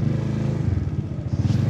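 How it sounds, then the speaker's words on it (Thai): Idling engine of a Honda Forza 300 scooter with a piston ring scraping fault, a close, steady low throb with a faint rough clatter running through it and no talk. "จะมีเสียงกราวของแหวนสูบอยู่นะครับ"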